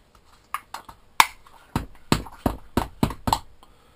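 Metal sections of a backpacking alcohol stove being tapped down into place, a series of sharp, light metallic clicks and taps, close and fairly quiet, with irregular spacing that settles into a quicker run of hits.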